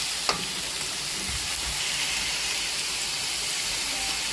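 Pork fries in a pan for dinuguan, giving a steady, moderate sizzle throughout, with a single faint knock near the start.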